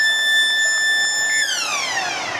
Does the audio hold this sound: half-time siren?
yes